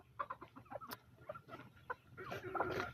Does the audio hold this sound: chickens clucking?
yes